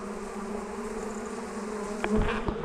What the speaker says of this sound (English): we've got some confused little bees up here